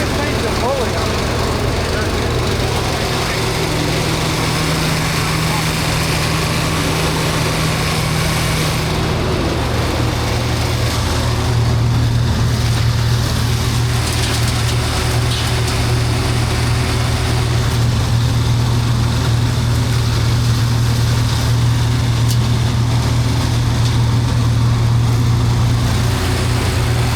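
Overkill homemade gas-engine leaf shredder running steadily nearby, a constant droning motor with a high buzzing whine that rises in load partway through, voices talking over it at times.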